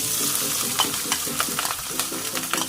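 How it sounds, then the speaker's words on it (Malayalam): Ginger, garlic and green chilli frying in hot oil while a grape and mango pickle is prepared, a close, continuous crackling sizzle with light popping and stirring scrapes throughout. "ഇതൊക്കെ മൂത്ത് നന്നായിട്ട് പൊട്ടി വന്നിട്ടുണ്ട്"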